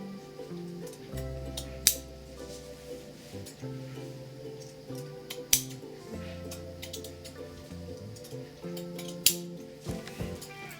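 Scissors cutting a lacy crochet curtain, a few sharp snips spaced seconds apart, quiet and close, with soft handling noise and a background hum.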